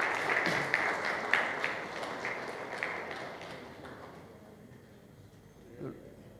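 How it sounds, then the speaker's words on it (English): Applause rippling through an audience at an ICC T20 World Cup trophy launch in an office, a dense patter of claps that fades away over several seconds, with speech running over it. "Yeah, so I need claps, come on,"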